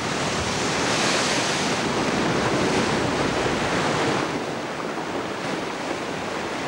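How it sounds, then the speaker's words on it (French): Strong force 6 to 7 wind with violent gusts roars over a heaving sea with 3 to 5 metre swells off the Raz de Sein, in a dense, unbroken rush of noise, with surging water and gusts buffeting the microphone. "Vent de force 6 à 7, avec de violentes rafales, houle de 3 à 5 mètres."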